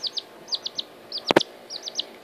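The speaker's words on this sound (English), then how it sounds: "this is my baby chicken" A baby bantam rooster chick chirps in short, high, repeated peeps in small bursts, with a brief louder scuffing sound in the middle; the chirps are close and fairly clear, and no one speaks.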